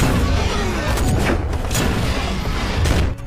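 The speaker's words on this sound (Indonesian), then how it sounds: "Tentara Uni Soviet membuka pertempuran dengan tembakan anti-tank." Soviet anti-tank guns and German tank cannons fire in a wartime battle scene, heavy booms and rumbling blasts overlapping in a continuous loud barrage.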